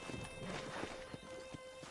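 Horse hooves clop at a walk in the Western video game Red Dead Redemption, a steady, fairly close rhythm of soft thuds over a busy background of game ambience and music.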